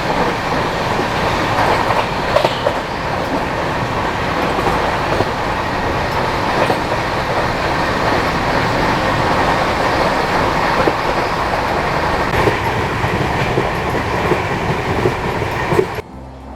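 The Ranthambhore Express runs on the rails between Jaipur and Indore with a steady, loud rumble and rhythmic clickety-clack heard from inside, continuous until it drops off at the very end.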